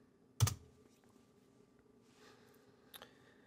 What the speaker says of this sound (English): What I can do now is just start up the application by typing npm